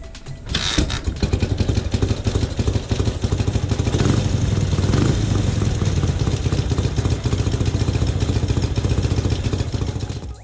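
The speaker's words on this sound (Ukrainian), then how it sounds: "Як не дивно, мотоцикл заводиться з першого разу" A Ukrainian MT Dnepr motorcycle engine sputters to life and settles into a steady, loud, rhythmic idle that keeps running throughout.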